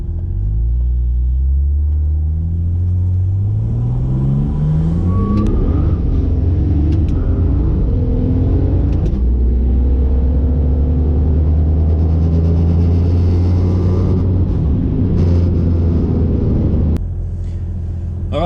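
A Ford Falcon XR6 Turbo launches hard and accelerates through several gear changes. Its loud, close engine climbs repeatedly in pitch before easing off near the end.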